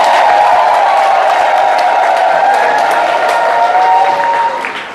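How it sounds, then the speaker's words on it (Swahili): A church congregation breaks into loud, sustained applause mixed with high ululation. The sound is close and continuous, then tapers off slightly near the end. "Mshukuruni kwa makofi mengi na vigelegele."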